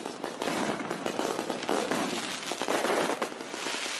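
Diwali firecrackers burst in quick succession, a dense barrage of loud crackling pops and bangs that keeps going for the whole stretch.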